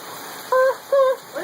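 Rain falls outdoors as a steady, even hiss, while two short voiced sounds rise briefly over it near the microphone.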